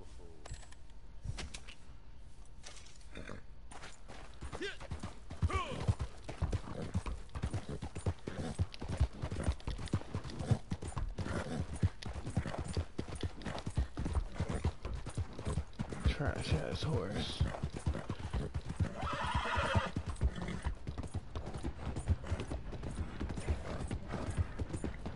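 A horse trotting in Red Dead Redemption 2, with steady rhythmic clip-clop hoofbeats running throughout, mixed with mechanical clatter and someone talking over it.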